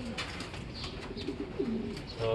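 Racing pigeons circling home after a first 8 km training toss, soft low cooing in short repeated phrases close by, over light background noise.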